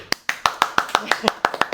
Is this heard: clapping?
yes